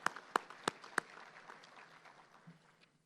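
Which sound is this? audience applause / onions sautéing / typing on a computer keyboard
audience applause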